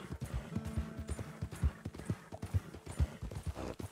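Horse hooves clip-clop at a steady trot in the video game Red Dead Redemption 2, a quiet, even run of hoofbeats with no talking.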